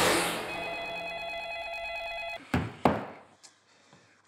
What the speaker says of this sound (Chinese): 接电话，快接电话呀！